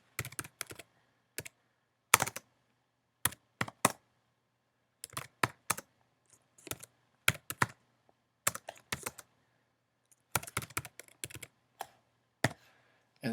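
Close computer keyboard typing of a short PHP program at a command line, bursts of crisp key clicks separated by brief silent pauses, steady and fairly quiet, with no voice.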